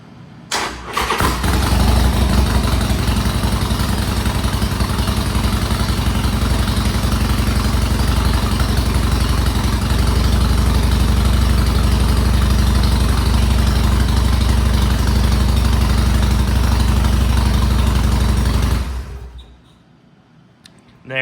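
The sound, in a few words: Harley-Davidson Sportster motorcycle engine starting and idling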